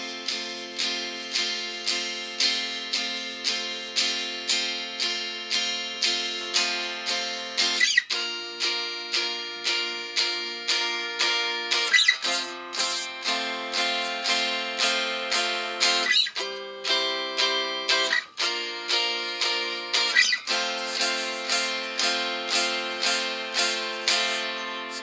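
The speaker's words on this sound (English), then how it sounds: "So the whole 12 bars would sound something like this." Electric or acoustic guitar strums a 12-bar blues in F with barre chords in a beginners' lesson, steady rhythmic chord strokes repeating evenly with brief breaks between sections, loud and close with no talking.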